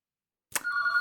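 A phone begins ringing after half a second of silence, a short bright tone that holds steady, loud and close, with no voices.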